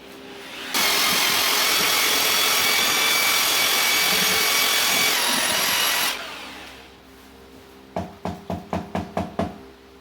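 Paddle mixer whisking plaster in a bucket or tub, a loud steady broadband whirring for several seconds, then stopping, followed by a quick run of sharp knocks as the whisk is tapped against the tub's side.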